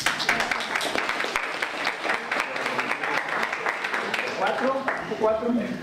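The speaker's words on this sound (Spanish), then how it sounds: "aplauso." An audience at a literature forum claps in a burst of scattered applause that fills the room, while people talk over the clapping.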